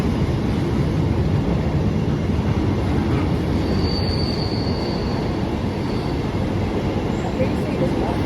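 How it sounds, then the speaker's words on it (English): A long freight train passing Nuneaton station, rumbling steadily and loudly throughout with wheels squealing thinly above the roar. "I see another freight train."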